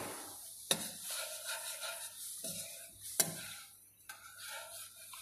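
Water simmers and bubbles in a pot while being stirred during a chemistry lab, with soft scraping and sizzling, two sharp knocks of the utensil against the pot, and no talking.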